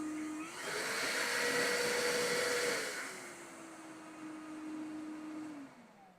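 An EGO 56V 9-gallon wet/dry shop vacuum's motor spins up and switches to turbo, a steady loud whine with rising pitch that eases back to a lower continuous drone before winding down at the end.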